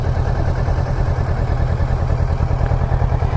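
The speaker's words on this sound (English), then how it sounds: "So there's a parallel twin 650 engine." A 2016 Kawasaki Vulcan S motorcycle's 650 parallel twin engine idles steadily up close, a low, even rumble with a throbbing beat and no voices.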